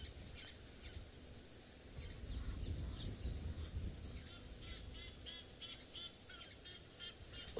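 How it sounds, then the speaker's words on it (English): Egyptian geese call repeatedly in the background of an evening safari scene, faint honking squawks scattered across a low rumbling outdoor ambience with no voices. "I'm sure you can hear the calls of the Egyptian geese as well in the background."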